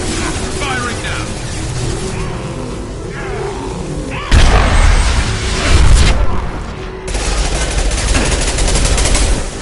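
Gunfire in the sci-fi shooter game Mass Effect 2, bursts of rapid weapon fire and booming impacts over mechanical clatter, with combat voices calling out between the shots.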